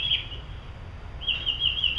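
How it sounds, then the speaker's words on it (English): Pet birds chirp in the background, a few thin, high, rapid tweets at the start and again near the end, faint over a low room hum. "with my birds chirping in the background"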